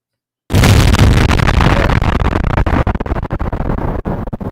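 A loud explosion bursts in abruptly after a moment of silence, then rolls on as a dense rumbling, crackling blast that slowly breaks into scattered debris crackles.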